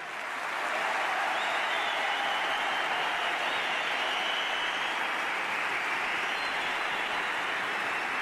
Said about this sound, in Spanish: ¿Cómo lo aplauden?